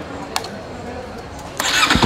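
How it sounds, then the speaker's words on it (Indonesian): A Morbidelli T252X 250cc two-cylinder adventure motorcycle fitted with a custom exhaust fires up: a brief click and quiet mechanical ticking, then the engine catches loudly near the end with a broad roaring burst. "buat kalian yang penasaran sama suara 2 silinder dari T252X ini,"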